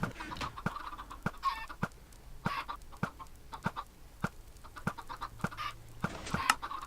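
Chickens in the video game Magic World cluck repeatedly in short, scattered bursts, with sharp tapping clicks spread throughout at a moderate distance.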